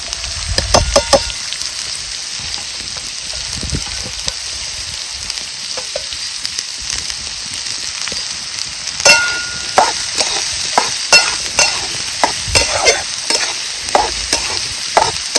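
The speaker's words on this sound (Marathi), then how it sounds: "आता कांदा भाजून घ्यायचा आहे पहिल्यांदा।" Onions fry in oil in a hot kadhai, a steady hiss with a spatula scraping and stirring in irregular strokes and a few metallic clinks against the pan, close by.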